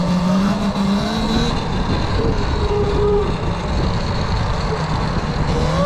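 Electric dirt bike ridden slowly in eco mode at about 6 to 7 miles per hour, a loud steady motor whine with rushing wind and tire noise, close and continuous.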